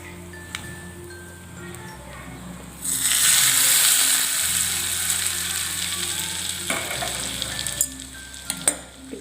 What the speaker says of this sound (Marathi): आता हे तेल चटणीवर ओतून घेऊ आपण।